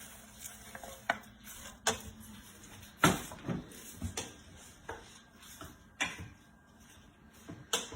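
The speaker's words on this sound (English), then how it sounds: "I'm going to add in my cabbage." Cabbage being added into an Instant Pot for stuffed peppers soup, a run of sharp clattering knocks and scraping stirs at irregular intervals, fairly quiet and close, with no talk.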